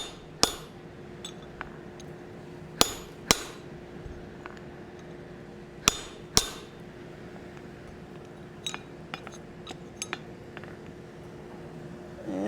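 Hammer blows on hot steel at an anvil while forging a hammer ring out as sharp, bright clinks, a few loud strikes spaced irregularly and then lighter taps, over a steady fan hum.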